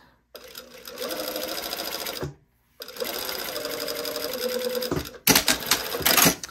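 Sewing machine stitching a back panel seam of a lining: two close bursts of rapid motor whir and needle chatter separated by a brief stop, ending in sharper clatter.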